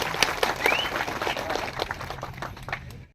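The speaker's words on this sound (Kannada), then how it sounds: "ಅವರಿಗೆ ದೂರ ಚಪ್ಪಾಳೆ ಹೇಳ್ರಿ ನರೇಂದ್ರ ಮೋದಿ" Crowd applause at a political rally, a few seconds of scattered clapping with a faint voice above it, tapering off as the clip ends.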